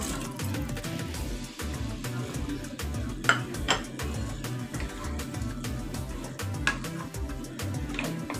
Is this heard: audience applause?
no